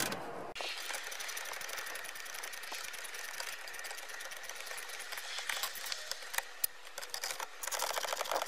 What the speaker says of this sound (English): We use our socket driver to take those screws out.